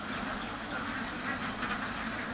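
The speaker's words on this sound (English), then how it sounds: "these are Kuttanadan ducks" Kuttanadan ducks, a local indigenous breed kept on a farm, make a continuous hubbub of nasal quacks that blend into a busy chatter. Soft background noise runs under it, and no one speaks.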